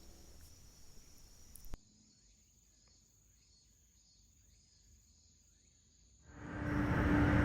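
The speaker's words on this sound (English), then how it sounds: "listening to the manic chirp of the cicadas" Cicadas at a rural Japanese country station make a thin, high, continuous drone at moderate distance. A louder broadband noise takes over at the start and again near the end.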